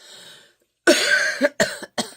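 A person coughs several times up close, one long harsh hack followed by three shorter dry coughs, with no speech.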